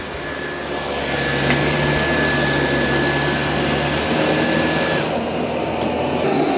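A Dyson 360 robot vacuum runs nearby with a steady, loud whirring motor drone and a thin high whine, shifting tone near the end, with no voices.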